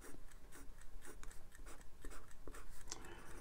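A MaJohn C4 Japanese eyedropper fountain pen with a steel nib scratches across paper in short, close strokes and ticks, quiet and irregular, with no talking.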